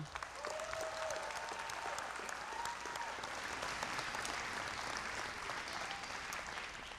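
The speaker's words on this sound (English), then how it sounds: "Let's give all of our speakers a round of applause and thank you." An audience at an adult basic education and high school equivalency graduation ceremony applauds the speakers. The clapping is sustained and dense, a steady roar of many hands with a faint voice or two underneath, heard at a moderate distance.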